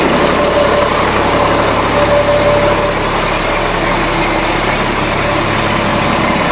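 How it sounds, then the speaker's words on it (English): A GMC C7500 truck's diesel engine idles while it warms up, close and loud. It gives a steady, even rumble with no change in pace and no voices. "I'm gonna let the truck warm up a bit"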